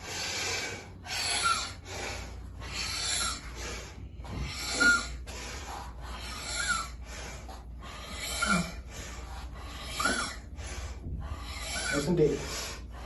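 Rhythmic forceful bellows breathing, about a dozen sharp, noisy breath bursts in a steady pumping pattern over a low room hum, heard up close with no talking.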